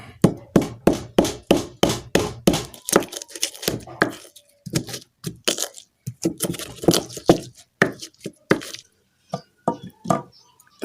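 Turmeric pounded in a mortar for a spiced fish pepes, a fast run of sharp, even thuds at first, then slower, more irregular strikes with short pauses between them.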